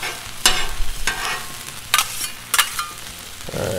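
Corn kernels and butter sizzle loudly on a Blackstone flat-top griddle for Mexican street corn, with steady frying hiss broken by several scraping strokes as the mixture is stirred.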